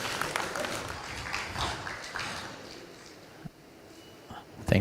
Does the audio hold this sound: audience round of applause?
yes